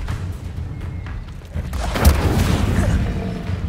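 The Incendio fire spell cast in Hogwarts Legacy, a rumbling whoosh that swells into a burst of flame about two seconds in, then fades over low background noise.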